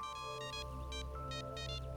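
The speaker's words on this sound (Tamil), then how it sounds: "எனக்கு ஃபோன் வருது" Phone ringing with an incoming call in a Tamil film scene, a repeating electronic tone in short bursts over a steady hum, fairly faint.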